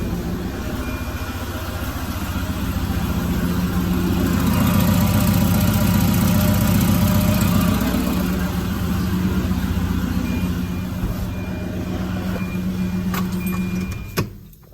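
Volvo 240 engine running just after a timing belt change, a steady mid-pitched hum that swells slightly mid-way and then settles, ending with a brief knock.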